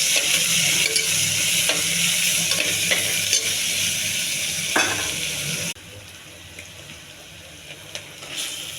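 Onions, curry leaves and a bay leaf frying in a pan, with a loud, steady sizzle and repeated stirring scrapes that suddenly drop to a quieter hiss partway through, with no talking.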